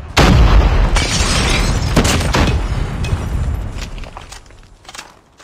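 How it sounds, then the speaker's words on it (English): A grenade goes off in a shooter game, opening with a sudden loud close boom that rumbles and decays over several seconds, with scattered smaller bursts and clatter afterward. "Frag out! Grenade out!"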